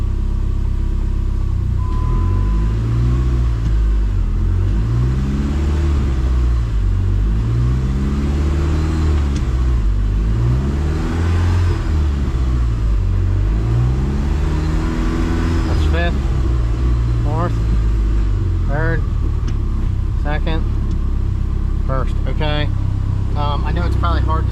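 A Dodge Neon SRT-4 engine runs in first gear with the wheels spinning and boost solenoids unplugged, a loud steady low rumble with rising and falling revs, while a person talks over it near the end.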